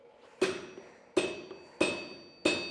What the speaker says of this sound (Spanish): Para que la fuerza del golpe del mayo se reparta uniformemente por la unión de las piezas